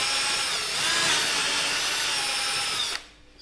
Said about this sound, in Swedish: det är dags för borrning